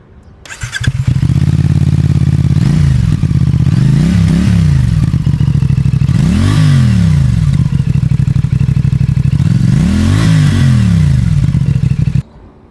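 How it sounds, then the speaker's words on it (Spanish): A CFMOTO 450SRS sport motorcycle idles and is revved several times through its exhaust, loud and close, with sharp rising and falling blips over a steady low rumble and no one talking. "ahora vamos a escuchar el sonido de este escape, a ver qué tal, cómo se escucha esta"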